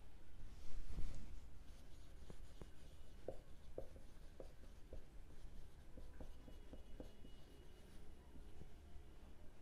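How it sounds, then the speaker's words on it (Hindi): Writing by hand during an accountancy lesson: a faint series of short, scratchy pen strokes tapping and sliding at an uneven pace over a quiet room, with no speech. "रुको पहले मुझे इधर लिख लेने दो।"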